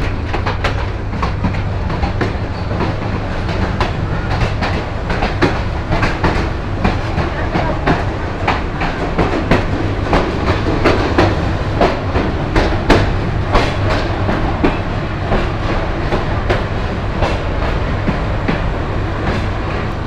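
Burimari Express train running on rails near Natore in intense heat, a loud continuous rumble with rapid rhythmic clickety-clack of wheels heard from on board for twenty seconds.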